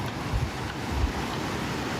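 Sea waves wash steadily onto a seashore, a continuous roar of surf mixed with gusting wind buffeting the microphone, with no voices.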